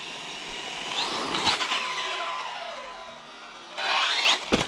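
Losi Lasernut U4 Racer Scale RC buggy driving and jumping, a high-pitched electric motor whine rising and falling as it revs, lands and brakes, with a second rev burst near the end.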